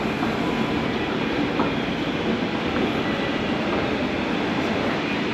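Delhi metro train running on the rails, a loud continuous rushing roar with faint clicks, steady throughout with no talk.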